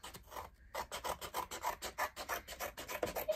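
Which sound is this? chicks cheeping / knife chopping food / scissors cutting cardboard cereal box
scissors cutting cardboard cereal box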